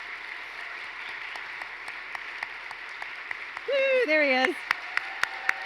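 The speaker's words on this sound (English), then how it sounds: "If we can have one more round of applause for John, who is sitting right here." Community audience at a 50th anniversary celebration applauds John, a legacy donor seated among them: steady clapping of moderate loudness, with a brief swelling whoop midway and a voice speaking over it.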